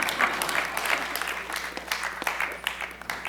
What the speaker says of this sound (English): big clap for depression